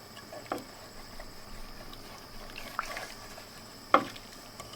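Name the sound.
stirring a mixture in a pot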